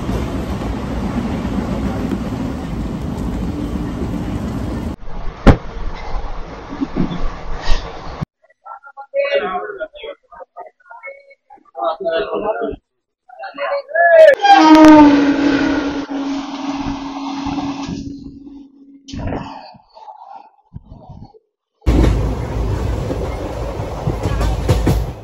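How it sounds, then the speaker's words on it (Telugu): The Krishna Express train moves along the tracks with a loud rumbling rattle that cuts in and out, a sustained wheel squeal partway through, and voices talking at intervals. "సింగరాయకొండ నుంచి మన ట్రైన్ కదా సిగ్నల్ వచ్చేసింది."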